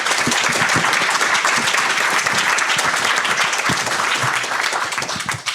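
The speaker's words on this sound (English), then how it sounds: "Can you please give a big round of applause for our panelists?" A room full of people applauding panelists at a policy discussion, dense steady clapping throughout that fades slightly at the very end.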